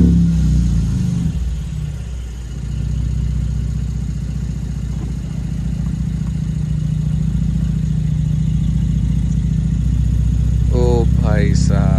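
A Mercedes-Benz SLK 350 convertible runs with a deep, loud engine rumble that dips briefly and then swells as it revs. A voice cries out near the end.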